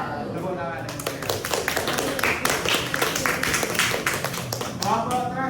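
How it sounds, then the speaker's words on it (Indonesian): Students in a classroom teaching session give lively, close applause after a group presentation: a crowd of overlapping hand claps running throughout, with voices briefly audible at the beginning and the end. "Tepuk tangan yang meriah"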